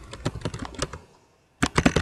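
Computer keyboard typing, close up: quick clusters of crisp key clicks, a brief pause, then another fast burst of keystrokes, with no speech.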